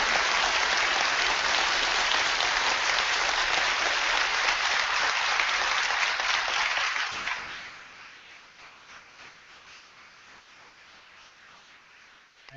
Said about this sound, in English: We can applaud Mr. Ham's presentation.